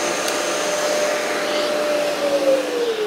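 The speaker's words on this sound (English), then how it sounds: "Ordinarily, you'd have had to go around and manually switch the extractor on in order to do this." A workshop dust extractor wired to switch on together with the light hums and whooshes steadily at close range, a continuous airflow roar with a faint whine, running alone without talk.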